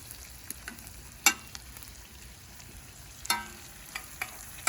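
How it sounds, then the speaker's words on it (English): Butter melting around onions on a Big Green Egg grill gives a steady, fairly quiet sizzle throughout, with two sharp clatters from a utensil moving the food. "move my onions a little bit out of the way there and throw in a couple more pads of butter. And as soon as that melts"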